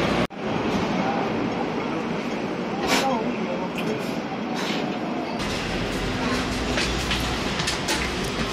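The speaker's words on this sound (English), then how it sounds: "Now I'm waiting for the tram." A Hong Kong tram rolls in and runs along its rails, a loud steady rumble with sharp wheel clicks and squeals close by, carrying on for several seconds over street ambience.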